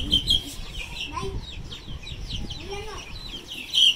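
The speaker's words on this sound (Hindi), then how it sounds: "मुर्गी को तो निकालो" A hen clucks in short bursts amid chirping birds and background chatter, with a couple of louder squawks near the end.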